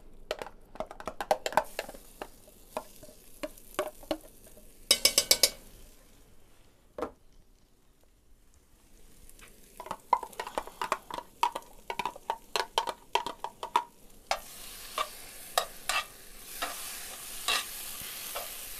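Mole poblano ingredients, including chili, stirred in a pot, with repeated scraping and clacking spoon strokes in irregular rhythm, a pause, then more stirring and a rising sizzle of simmering toward the end.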